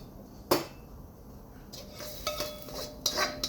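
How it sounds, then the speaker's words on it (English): Spring onion being mixed and smashed into potatoes in a very hot wok, with a sharp metal clang near the start followed by scraping, clinking utensil sounds against the pan. "we are going to mix the spring onion with the potatoes. Just kind of smash that in there"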